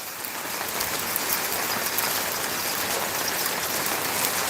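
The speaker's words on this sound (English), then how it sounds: "See the hail bouncing off the hot tub." Dense, steady pattering of hail hitting a hot tub, a constant hiss like heavy rain, close and uninterrupted, with no voices.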